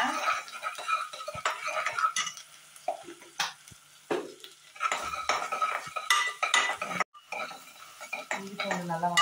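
Ginger garlic paste sautéing in a pan over softened onions while being cooked for macaroni, with repeated scraping and clinking of a utensil against the pan over a low sizzle, close and fairly busy, no talking.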